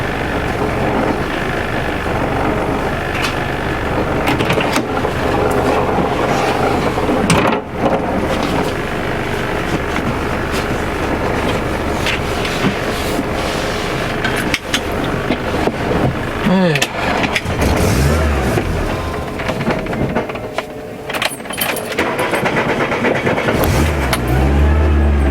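A Volkswagen Golf 1 GLI Karmann drives on the road, its engine and road noise forming a steady, loud in-cabin drone with shifting pitch as it accelerates and a person talks over it.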